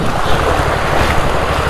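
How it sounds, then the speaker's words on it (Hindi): Fast-flowing river water rushes in a loud, continuous, broadband roar close to the microphone, mixed with wind buffeting, with no voices. "तो पानी का फ्लो बहुत ज़्यादा है यहाँ पे यार।"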